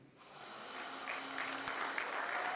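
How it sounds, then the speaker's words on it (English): Audience applause at the launch of an entrepreneurship summit, building from quiet to a sustained roomful of clapping, heard from some distance in a large hall. "Huge round of applause, ladies and gentlemen."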